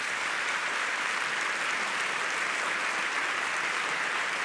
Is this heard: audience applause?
yes